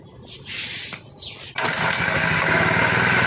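A small power weeder's engine starts with a sudden burst and then runs steadily, loud and close, its buzzing drone holding even after a few quieter idling moments before ignition.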